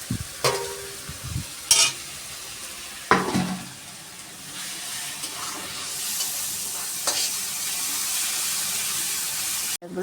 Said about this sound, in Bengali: ওইগুলো আমরা এর সাথে দিয়ে মিক্সড করে ভেজে নিচ্ছি